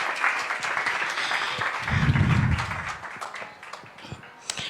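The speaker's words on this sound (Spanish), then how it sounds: "Así que recibámosla con un fuerte aplauso." A church congregation claps to welcome a visiting female pastor, a lively round of many hands that swells with cheering voices partway through, then thins out into scattered claps.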